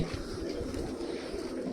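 Pigeons coo low and continuously inside their coop after rain, under a dense, noisy background.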